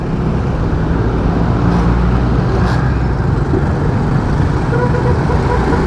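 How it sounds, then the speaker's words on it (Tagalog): Road traffic on a busy street in the Philippines, heard from a motorbike rider's position: a dense, steady roar of cars and engines, loud and close, with no pauses. "Grabe yung traffic ngayon ah."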